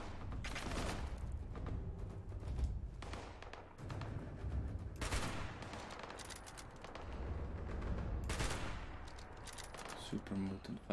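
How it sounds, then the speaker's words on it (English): Gunfire in the video game Fallout 76, repeated heavy bursts of shots and booming impacts at varying loudness, with game noise and a voice talking underneath. "Someone else is shooting me."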